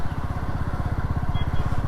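A Royal Enfield Classic 350 motorcycle engine runs with a steady, rapid low thump of firing pulses, close and continuous with no talk.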